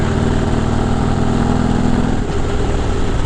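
Motorcycle engine droning steadily and loud on a ride up to a Harley-Davidson dealer, a continuous close rumble with wind noise and no talk.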